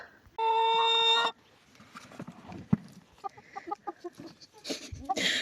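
Chicken clucking and scratching about nearby, short irregular clucks and bustle following a brief loud tone at the start.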